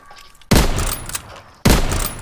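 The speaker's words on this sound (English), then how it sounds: "I'm literally AFK and you're shooting at me." Two loud, close sniper rifle shots in the World War II shooter game Call of Duty: WWII, each a sharp crack with a long booming tail, about a second apart, with no voices.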